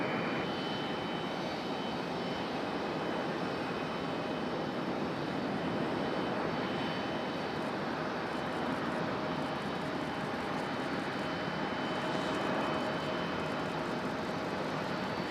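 A JetBlue Airbus A220 jet arriving from JFK at Raleigh-Durham airport gives a steady, sustained engine roar with a faint high whine, heard alone without talk and holding fairly even throughout.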